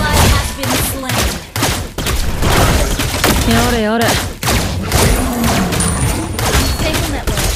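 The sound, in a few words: gunfire from Layla's gun in Mobile Legends video game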